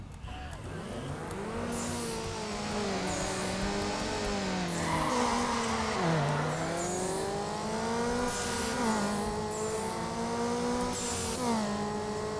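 Car engine in Need For Speed Underground with a nitrous boost roars loud and continuous, its pitch rising and wavering through gear changes, with tire squeals and whooshing effects layered on top.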